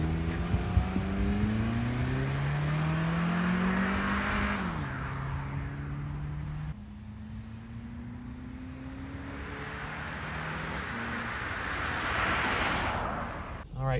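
A 2010 Honda Civic Value Package drives past outside on back roads in the Mid-Willamette Valley, its engine hum rising and falling in pitch as it shifts gears, a continuous moderately loud drone with steady road and wind noise.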